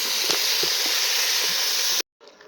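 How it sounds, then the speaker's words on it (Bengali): Broth poured into a hot pan of vegetables for khichuri sets off a steady, loud sizzling hiss that cuts off abruptly, leaving a quieter simmering bubble. "কিছুক্ষণ নাড়াচাড়া করার পর কিন্তু এখানে ঝোলটা দিয়ে দিচ্ছি"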